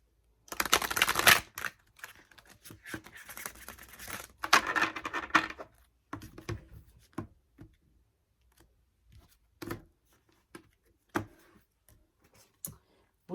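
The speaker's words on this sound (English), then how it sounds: "One more shuffle." Tarot cards are shuffled by hand in a quiet room, two bursts of riffling followed by a string of sharp, isolated taps and flicks as cards are handled and laid down, close and crisp.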